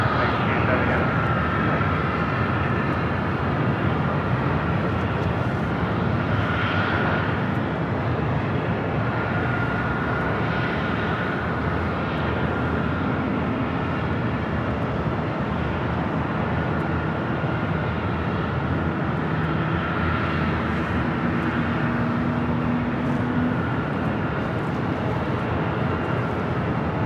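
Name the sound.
Airbus airliner at Los Angeles LAX airport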